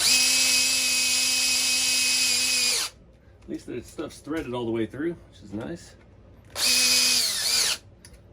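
A big power drill whines loudly for a few seconds while driving small scale hardware on an RC model semi truck, stops while someone talks, then whirs again in a second short burst.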